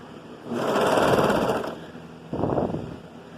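A serger runs on fabric for a child's dress, a loud steady whir for about a second, a pause, then a shorter second burst.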